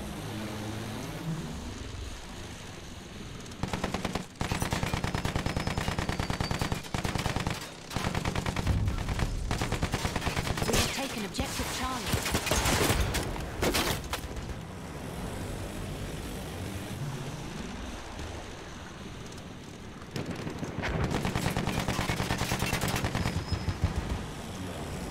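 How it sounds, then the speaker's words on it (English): Sustained enemy machine gun fire in Battlefield 1 rattles in long, loud bursts with short gaps, mixed with droning aircraft propeller and engine noise across the battlefield, no talk. "Enemy machine gun!"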